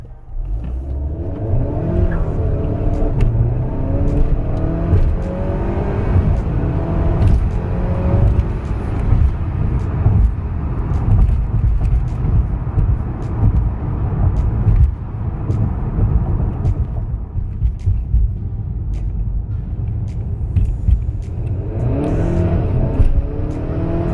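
A Honda Accord 2.0T with a catted downpipe and a Stage 2 tune accelerates hard through a sustained drive, its loud engine roar and rumble rising and falling with gear pulls for the whole stretch, with no talking.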